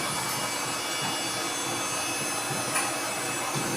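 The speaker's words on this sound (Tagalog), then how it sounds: "medyo mailap siya sa blower kaya dahan-dahan lang" A pet grooming blower drying a dog indoors, a loud steady broadband rushing roar held close and continuous throughout with no pauses.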